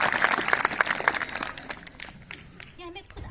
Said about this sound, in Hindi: तालियां बजाओ।